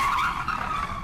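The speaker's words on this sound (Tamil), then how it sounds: "கார் சாலையை விட்டு விலகி பனிச்சருகில் பயங்கர வேகத்தில் சுழன்றது." A car skids and spins on a snowy road, a loud sound effect of screeching tyres with a rising-and-falling whine over a low rumble, brief and continuous with no voices.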